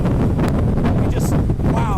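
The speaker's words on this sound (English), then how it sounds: "We are getting another wind gust" A strong wind gust roars and buffets the microphone in a loud, continuous, rumbling rush that fills the whole moment.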